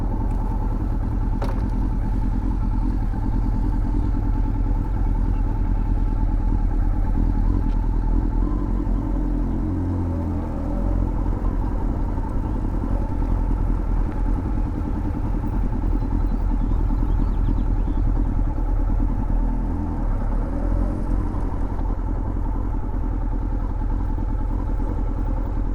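Yamaha R1 sport motorcycle engine idling and creeping forward under clutch control during a slow practice turnaround, a steady close rumble with slight fluctuations as the clutch is fed in and pulled back.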